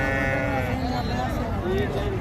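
Sheep bleat continuously at a crowded livestock market in Rajanpur, with several animals calling and overlapping against loud background chatter and crowd noise throughout.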